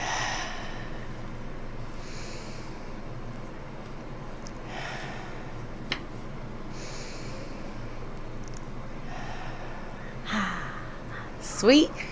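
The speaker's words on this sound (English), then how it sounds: "So we just going to take it in 3 deep breaths." Several slow, deep breaths drawn in and out through the nose at a radio studio, soft airy inhales and exhales spaced several seconds apart, closing with a louder sharp gasp over quiet room noise.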